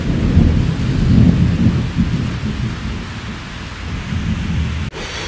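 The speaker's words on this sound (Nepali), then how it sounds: "गाडाङ गुडुङ बिजुलीहरू चम्किँदैछ" Loud, continuous rumbling thunder rolls through a thunderstorm with steady rain falling, the roar swelling and easing for several seconds before dropping off sharply near the end.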